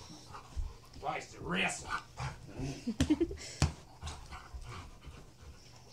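A big dog pants and whimpers close by, with a few short sharp sounds mixed in, while someone talks over it.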